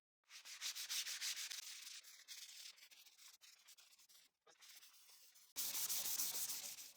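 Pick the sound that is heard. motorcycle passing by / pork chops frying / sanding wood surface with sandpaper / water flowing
sanding wood surface with sandpaper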